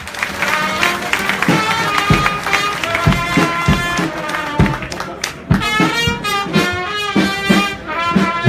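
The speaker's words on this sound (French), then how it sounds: "encore une fois, applaudissez-vous vous-même" Audience applauding at a political speech, with sustained clapping and crowd noise under music. The applause swells and fades with scattered sharp claps over several seconds.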